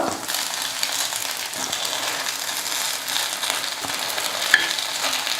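Kuzhi paniyaram sizzle steadily in a pan as they are turned, a continuous close frying hiss with faint scraping and clicks.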